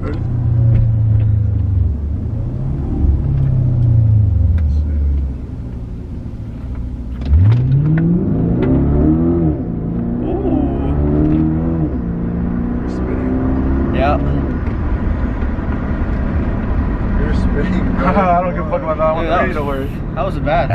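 A BMW car on a test drive, its engine rumbling and rising in pitch through several gear changes, heard from inside the cabin as people talk throughout.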